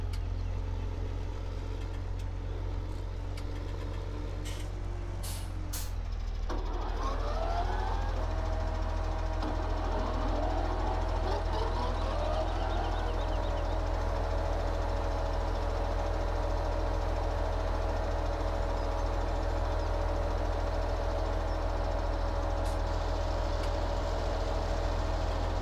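Tractor engine running in the Farming Simulator 17 game while mowing and baling on a farm field, a steady low drone that rises and holds a constant pitch throughout.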